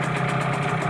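A HANGKAI 6.0 outboard motor ticks over at idle in a steady, close, loud drone with a light rhythmic pulse, and nobody speaks.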